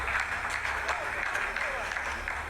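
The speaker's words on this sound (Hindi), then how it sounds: "आप इस तालियों के गड़गड़ाहट को सुन सकते हैं" Scientists in a mission control room burst into rolling applause as the Chandrayaan-3 lunar lander completes a descent phase, a dense wash of clapping running throughout beneath a commentator's steady voice.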